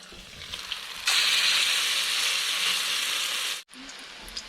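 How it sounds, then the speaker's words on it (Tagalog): Loud, steady sizzling of food frying in a pan starts abruptly, hisses continuously for a few seconds, then cuts off, leaving a quiet background. "prito tayo ng kastoy"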